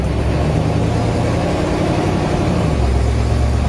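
A 1950 Oldsmobile station wagon, with a clutch pedal still under the floorboard, idles steadily; a low, even engine rumble runs continuously and fairly close, with no voices over it.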